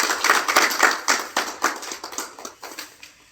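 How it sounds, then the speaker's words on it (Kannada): Applause at a Jamkhandi taluk farmers' association meeting, a burst of sharp, uneven clapping from a small group close by that fades out over a few seconds. "ಚಪ್ಪಾಳೆ."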